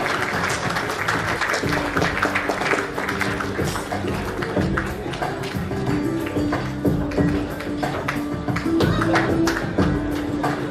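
Audience applause at an award ceremony in a Patna hotel hall, a dense sustained wash of clapping filling the room throughout, with a steady tonal hum and faint music underneath.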